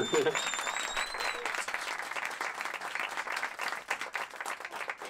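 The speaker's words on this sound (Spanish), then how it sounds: "Sí, merece un aplauso." A crowd claps in sustained applause, dense and lively throughout, with a brief whistle near the start.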